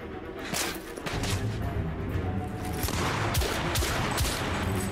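Gunfire in The Order 1886, a dense fusillade of sharp repeated shots at moderate loudness, steady sharp cracks throughout with little talk.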